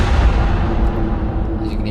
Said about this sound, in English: And that's achieved by a sound that we're calling a whoosh bang.